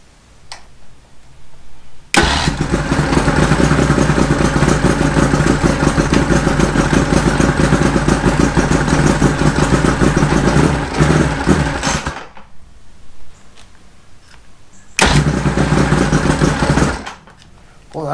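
A Mercury Thunderbolt 500 50 hp outboard engine fires up on its first run and roars loudly and steadily for about ten seconds, cuts out, then bursts back to life briefly before stopping.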